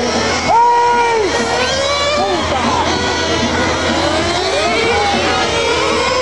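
Nitro RC touring cars race on a track in Bogotá, their high, buzzing engines rising and falling in overlapping whines as they accelerate hard. The engine noise is loud and steady under an excited commentator and murmuring spectators.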